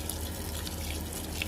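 Water running and dripping at night as plants are watered by hand at a home, a steady close trickle with a low constant hum underneath.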